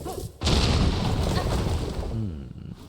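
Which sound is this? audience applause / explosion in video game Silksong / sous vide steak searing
explosion in video game Silksong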